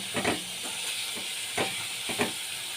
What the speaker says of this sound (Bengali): মাছটা দিয়েও ভালো করে আমি কষিয়ে নিচ্ছি